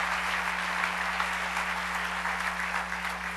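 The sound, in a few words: congregation applause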